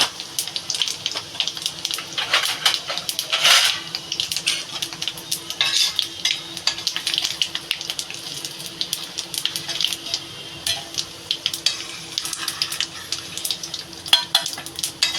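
Dried red chillies and cumin frying in oil in a pan for a rui fish curry, an uneven crackling sizzle mixed with repeated metallic scrapes and clinks of a utensil against the pan, close, with no voices.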